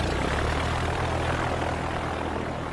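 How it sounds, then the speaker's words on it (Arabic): A propeller airplane drones steadily in flight in a cartoon, a loud continuous engine roar with a low hum that holds throughout, no voices. "أعتذر عن الطائرة غير الأنيقة يا جين"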